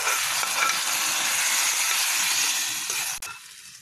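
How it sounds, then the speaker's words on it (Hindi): Masala for pearl millet khichdi fries in a pan with a loud, dense, continuous sizzle close by, dropping off abruptly near the end with no talking over it. "ये हमारा मसाला भूनने लगा है"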